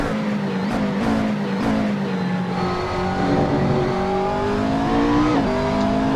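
A McLaren GT race car at Road America gives a throaty turbo engine note from on board, a steady loud drone that climbs and falls in pitch through gear changes, with no talk over it.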